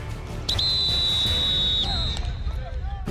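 A single long shrill whistle blast ends a football scrimmage, ringing out for over a second, followed by a shorter chirp, over outdoor crowd noise and distant voices.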